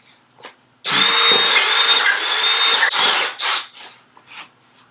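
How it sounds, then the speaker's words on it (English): A power drill with a 7/8 inch bit bores into a wooden microphone stand, a loud close whirring grind lasting about two seconds that ends in a few short stuttering bursts. "I guess I'm going to have to drill."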